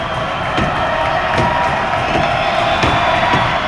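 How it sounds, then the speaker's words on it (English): Basketball crowd in a boys high school gym, Vandegrift vs. Round Rock, roars and cheers steadily during a free throw, a dense sustained wall of voices with scattered whoops and sharp bangs. "Listen to the crowd"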